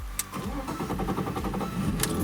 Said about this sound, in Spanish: Se queda un tic y ya arranca el coche.